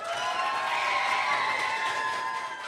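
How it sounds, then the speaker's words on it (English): Poetry slam audience applauding the poets, a continuous wash of clapping mixed with sustained whoops and cheering voices, fairly loud and steady. "Can I get a round of applause for every poet that read tonight?"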